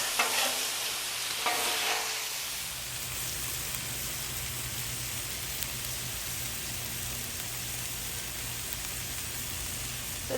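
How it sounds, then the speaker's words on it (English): Balsamic chicken and apples cook on a Blackstone griddle with a steady close sizzle, and brief stirring and scraping noises come in the first couple of seconds. "we're just going to mix it together and let it cook maybe just like another 3"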